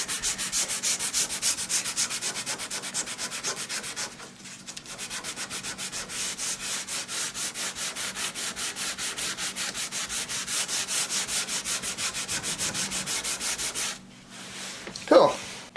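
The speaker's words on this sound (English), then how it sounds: "We'll just give her a quick sand with this ultra tiny piece of sandpaper" Close, steady rhythmic rubbing of a tiny scrap of sandpaper across a carved wooden Telecaster-style guitar top, fast back-and-forth strokes continuing for most of the stretch with a short pause and a brief louder bump near the end.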